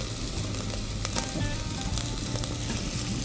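Chopped shallots, garlic and yellow onion sauté in a pan with a continuous bright sizzle and scattered crackles, close and fairly even throughout, with no voices.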